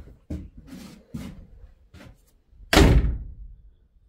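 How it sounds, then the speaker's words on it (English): A door swings shut against a newly framed doorway, landing in one loud solid slam after several softer knocks and taps from handling the frame. "That's the way the door should close right there."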